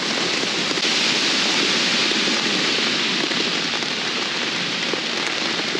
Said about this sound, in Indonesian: Biasanya dengar suara hujan.